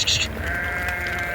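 Sheep bleating while crossing a bridge over a river: one loud, close, wavering bleat that fills most of the short moment, with a brief higher cry at its start.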